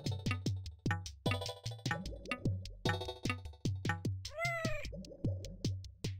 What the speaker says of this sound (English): Did I actually find a cat?